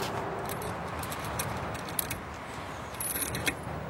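A bunch of keys jangles and scrapes as a key is tried in the lock of a case of photo and video equipment, small metallic clinks over a steady background hum.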